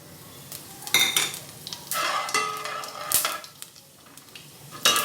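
Cumin seeds fry in a home kitchen pan beside chilies, giving a soft sizzle broken by a spoon stirring and scraping, with intermittent metallic clinks and knocks against the pan.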